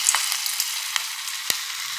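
Onion fritters (peyajer bora) frying in hot oil, a steady close hiss of bubbling fat with a few sharper crackles and pops rising above it.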